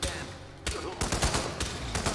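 A burst of gunfire rings out in the stealth video game Hitman 2, with sharp repeated shots in quick volleys over a noisy game background. A voice is faintly present.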